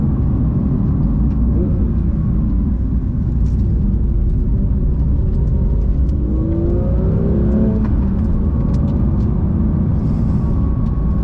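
A Porsche 911 GT3 (992) on the road, its engine droning steadily at cruising speed with rising revs toward the middle, tyre and wind roar close and constant, no talk over it.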